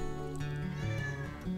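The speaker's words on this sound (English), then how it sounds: "Hi kitty." A house cat meows at close range, a few drawn-out, wavering cries in quick succession during a home cleaning day.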